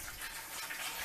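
Store-bought distilled water being poured into a container, a soft steady trickle and splash heard faintly and alone, continuous for about a second.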